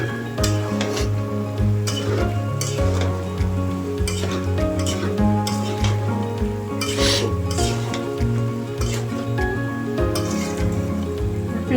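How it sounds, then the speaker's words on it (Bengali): Flat beans and potatoes sizzle in hot oil in a pan, cooked with tilapia fish, as a utensil steadily scrapes and turns them, the frying hiss continuing underneath throughout. "এখন আমি সুন্দর করে এটা নেড়ে চেড়ে দিব।"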